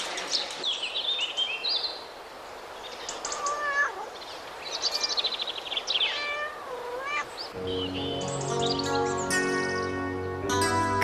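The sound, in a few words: street cat meowing in a village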